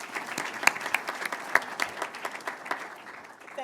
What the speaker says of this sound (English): let me please ask for a round of applause to welcome Dean Mills to the Houston Fed